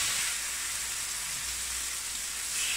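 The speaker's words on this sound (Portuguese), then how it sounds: "e eu vou fritar isso aqui." A steady, close hiss and crackle of garlic-marinated chicken fillet frying in a hot pan with a little butter, continuous throughout with no voices.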